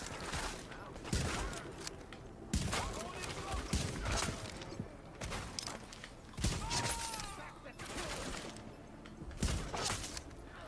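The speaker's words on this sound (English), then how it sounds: "So what I'm going to do is I'm going to shoot one of the little guys first." Bursts of video-game gunfire ring out as a player shoots enemies in an open-world boss fight, rapid clustered volleys repeating under a speaking voice.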